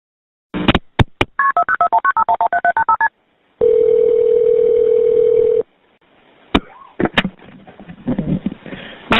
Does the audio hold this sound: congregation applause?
no